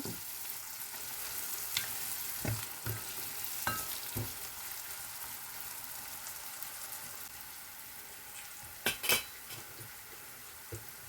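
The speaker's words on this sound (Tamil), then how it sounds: "வெங்காயம் நல்லா வதங்க வேணும்" Chopped onions sauté over low heat in a pan for a chickpea curry, giving a soft, steady sizzle with occasional spoon taps and a sharper clatter of stirring near the end.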